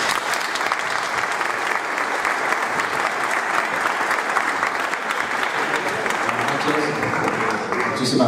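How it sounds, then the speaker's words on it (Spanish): A festival crowd claps at a film presentation in Las Palmas, sustained heavy applause that carries the whole stretch and fades slightly near the end. "un fuerte aplauso,"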